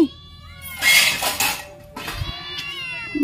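A cat meows several times in a village home, giving a long loud cry in the middle, then softer wavering calls, close to the microphone.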